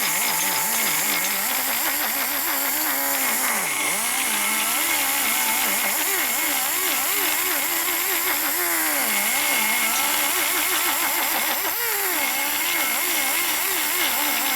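A cutting tool works the port wall of a 1979 Harley-Davidson Shovelhead 80ci engine, giving a loud continuous high whine that rises and falls in pitch as the cutter loads and frees, steady and close throughout.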